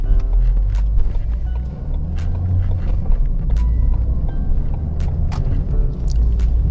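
Ford Fiesta ST driving with newly fitted mountune brake pads being bedded in, a loud steady engine and road rumble heard from inside the car with sharp intermittent clicks and knocks.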